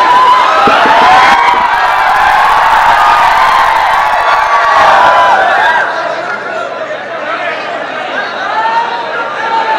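A dense crowd at a political jalsa shouts and cheers loudly in unison, with overlapping voices and whoops that ease slightly after several seconds.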